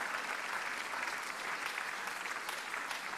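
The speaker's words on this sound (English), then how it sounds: "Let's continue to clap until she gets here." A Sunday church congregation keeps clapping as a woman marking her fiftieth birthday makes her way forward. The steady, fairly quiet crowd applause carries occasional sharper individual claps.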